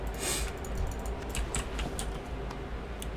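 A computer keyboard and mouse give continuous, fairly loud clicking and typing during a Classic World of Warcraft session, close up over steady background hum, with no talking.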